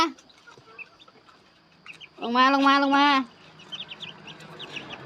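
Bantam chickens cluck and one calls out in a loud, drawn-out burst, with softer chirps from chicks around it, while a person speaks nearby at a farmyard feeding.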